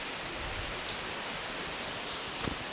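Steady rain pours down in a dense, even hiss, with a few louder drops spattering nearby, heard from shelter in a temple in Chiplun.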